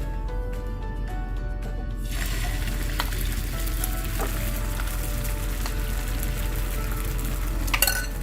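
An egg sizzles and fries steadily in a pan over a low flame, with a fuller, louder sizzle after the first couple of seconds, a few soft stirring scrapes, and a light clink near the end.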